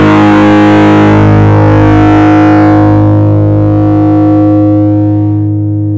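A loud, sustained distorted electric guitar chord rings out and fades through a noise gate, decaying faster than normal, its bright upper tones dying away faster than the low body.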